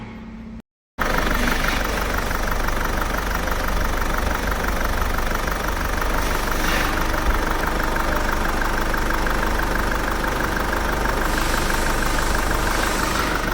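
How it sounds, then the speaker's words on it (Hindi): Diesel car engine idling steadily right after a fuel filter replacement, a loud continuous rumble with a faint knocking rhythm running unbroken from start to end, no talk. "तो इंजन हो गया हमारा बिल्कुल स्मूथ"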